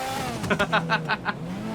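A large car drives past in the Dude Theft Wars game, with an engine hum carrying a run of short rhythmic revving bursts that rise and fade over under two seconds.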